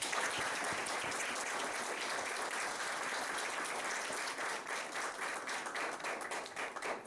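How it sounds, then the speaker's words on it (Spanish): A crowd claps loudly and continuously, a dense wash of applause that tapers slightly toward the end. "Podemos venir a recibirlas con un fuerte aplauso."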